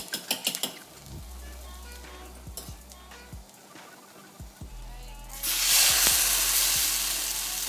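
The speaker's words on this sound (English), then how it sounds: "And then I'm gonna fry each side until it's golden brown" Bread slices for French toast hit a hot pan: a few quiet taps and knocks, then a sudden loud, sustained sizzle that stays strong to the end.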